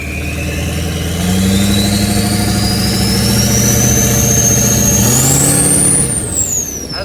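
Leveled Duramax diesel pickup on monster truck wheels driving: a loud, steady engine drone with a rising whine as it accelerates, a brief shift near the end, then the pitch drops.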